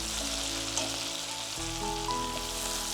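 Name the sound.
bitter gourd sautéing in a pan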